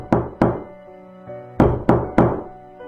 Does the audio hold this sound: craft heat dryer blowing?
no